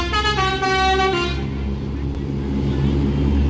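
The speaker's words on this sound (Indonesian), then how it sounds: "Jadi ini unit pertama dari bus NPM yang akan berangkat ya, MPM Kazana Executive Plus" An MPM Kazana Executive Plus intercity bus departs a terminal with a steady engine rumble and a long tonal horn blast at the start, while voices talk throughout.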